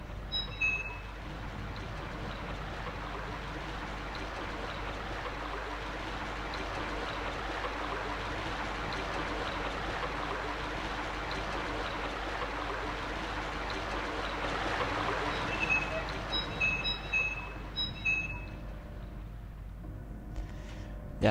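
Water rushing steadily from an opened valve in Silent Hill on PSX: a continuous, fairly quiet flowing hiss that holds for the whole stretch, with small chimes over it near the start and again near the end.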